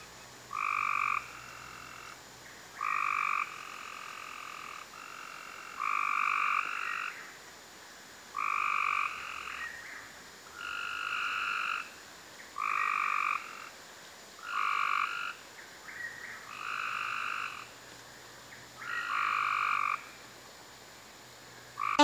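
Frogs croaking in the early evening during mating season, in repeated bursts of calls roughly every two seconds, steady and moderately near, with no talk.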